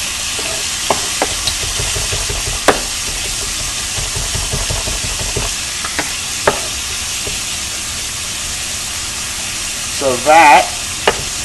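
Minced garlic fries in a pan on an electric burner, making a steady, even sizzle with light scattered taps and scrapes, close up, and a brief word spoken near the start.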